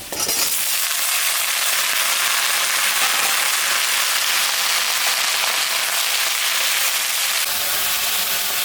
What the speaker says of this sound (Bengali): লতিটা ভাজা ভাজা হয়ে গেছে